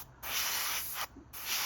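An airbrush sprays paint onto model ejection seats for a 1/48 Tamiya F-14A kit in two long, steady hissing bursts separated by a brief gap, close and fairly soft with no talking.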